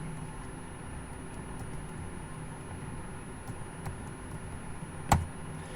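Faint, sparse keystrokes on a computer keyboard at a desk, a few soft clicks with a sharper tap near the end, over a steady low background hum.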